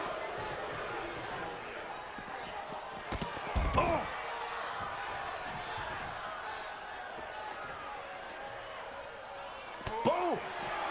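In the WWE 2K22 wrestling video game, an uppercut lands with a heavy punch impact, and a second thud comes later, over a steady roar of arena crowd noise.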